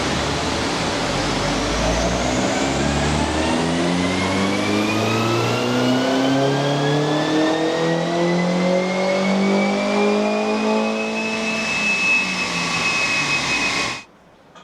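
R56 Mini Cooper S JCW engine on a dyno, pulling through one long, loud rising run with the engine note climbing steadily in pitch before cutting off abruptly near the end.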